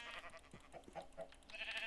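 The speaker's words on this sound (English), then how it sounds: "I heard another sheep" Sheep bleating in Minecraft, a few short, quiet bleats in quick succession, faint and fairly close.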